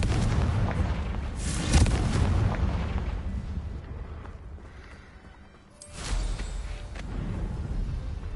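The Confringo spell from Hogwarts Legacy goes off in booming, explosive blasts: a loud rumbling burst that fades, a brief lull, then another heavy blast rolling on to the end.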